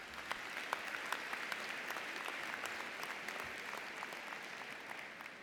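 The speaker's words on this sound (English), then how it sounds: "Give yourselves a round of applause" Graduation audience at a university business school spring commencement ceremony applauding in a large hall, a steady sustained wash of clapping from many hands, fairly distant, with no talk over it.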